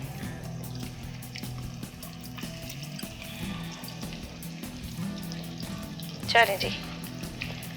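Sliced onion fries in oil with whole garam masala, a steady close sizzle running beneath a voice speaking briefly, with a slightly louder crackling burst near the end.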